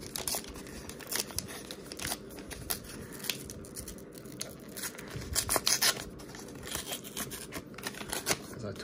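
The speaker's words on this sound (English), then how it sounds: "As I totally ripped the pack to pieces" A 1990s Upper Deck baseball card pack being torn apart by hand, close crinkly foil-wrapper ripping and crumpling in irregular bursts, growing busier and louder toward the end, with no one talking.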